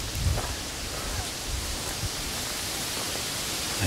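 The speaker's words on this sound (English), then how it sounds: "Still a little bit of rain." Steady rain hissing in the woods as a constant wash of noise, with a few low bumps early on and no voices.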